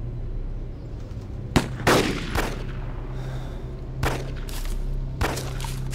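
Gunfire in the video game DayZ: a few sharp, loud shots ring out at irregular intervals, each with a short echoing tail, over a steady low background hum.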